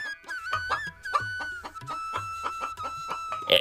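Cartoon chickens cluck and crow in a steady series of close, clear calls, with a rooster-like crow running through and no talking over them.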